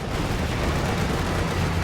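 Tank cannons firing during a video game battle between a Königstiger and IS-2 tanks, a continuous dense roar of gunfire and rumbling blasts layered together throughout, with no distinct pauses.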